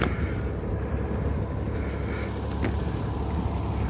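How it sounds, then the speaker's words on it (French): Old tractor passing by on a road at night, a steady low rumbling engine drone that stays loud and constant throughout, with some wind buffeting on the microphone. "Un vieux tracteur."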